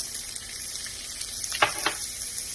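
Red onion frying in olive oil in a pan for a mushroom Wellington filling gives a steady close hiss of sizzling, with a couple of brief stirring scrapes near the end.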